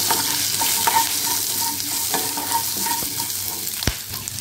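Sliced onions sauté in a hot pan, a steady close sizzle with intermittent scraping stirs and a sharp utensil knock near the end.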